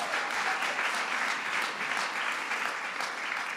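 An audience applauds the MCs Cal Penn and Terrence J at an American Film Institute event in Washington, a steady, dense wash of clapping from a crowd, continuous and even throughout.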